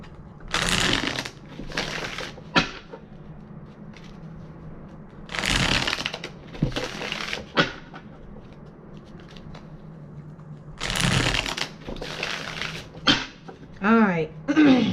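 Tarot cards being shuffled in several bursts of quick riffling and flapping, close and crisp, separated by quieter gaps, with occasional knocks and a brief squeaky sound near the end.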